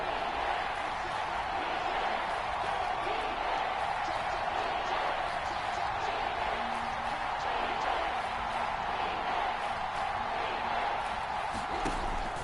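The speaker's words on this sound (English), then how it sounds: "That just means this crowd's going to get even louder" Stadium crowd noise in the football video game Madden NFL 22 forms a steady, dense roar that holds at an even level for the whole stretch.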